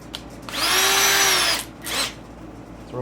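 A cordless power drill whines up to drive a screw for about a second, then gives a second shorter burst, close and clear over a quiet workshop background.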